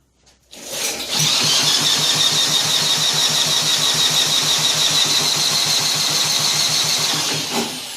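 A 1959 Mitsubishi Silver Pigeon scooter engine, built by Mitsubishi and sold as a Riverside, cranks and catches, then runs at a steady, fast, buzzing idle close by for several seconds before easing off at the end.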